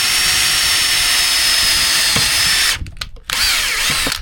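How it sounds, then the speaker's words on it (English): A power drill drives self-tapping screws into thick sheet metal with a loud, close, high-pitched whine that cuts out briefly, then resumes. "these metal self-tapping screws are fantastic, because it means you don't have to drill a hole."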